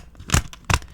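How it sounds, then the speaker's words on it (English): Two sharp, close clicks from the ratchet leg joints of a ThreeZero Anthem Ranger Javelin action figure, crisp snaps spaced about a third of a second apart. "Both of his legs are ratchet joints, which, they sound like this."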